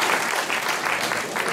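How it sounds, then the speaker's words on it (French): Audience at a young talent show evening breaks into applause, a dense steady wash of clapping throughout the moment. "vous pouvez les applaudir"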